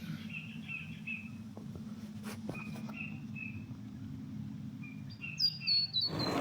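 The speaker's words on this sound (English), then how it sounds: "just non-stop bird chatter everywhere you go" Small birds chirp and tweet in short bursts and trills on a Moreton Bay island in Australia, moderately near, over a constant low background hum.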